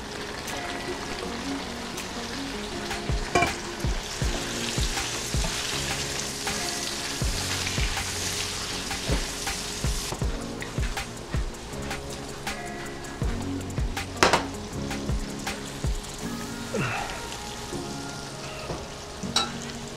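Eggplant sizzles in a hot pan over medium-high heat, a loud steady frying hiss broken by repeated clacks and scrapes from stirring, close by with no voices.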